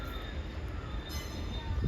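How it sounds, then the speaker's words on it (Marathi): A train at Igatpuri railway station gives a steady, close rumble of rolling wagons with a faint high metallic ring above it. The sound holds at an even level with no talk. "हे रेल्वे स्टेशन आहे इगतपुरीचं"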